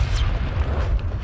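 A loud, deep boom from an explosion in an underground cave chamber rumbles heavily at low pitch for just over a second, close and forceful, with no speech.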